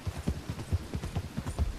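Horse hooves clip-clop in quick, steady rhythm on a road in the video game Red Dead Online, a brisk run of muffled thumps at moderate distance with no talking over them.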